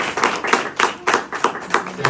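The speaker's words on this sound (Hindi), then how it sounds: "तीनों की जोरदार ताली बजाइए।" An audience at a ceremony with a cabinet minister claps in short rhythmic bursts, about seven evenly spaced pulses of collective hand clapping, fairly close and loud.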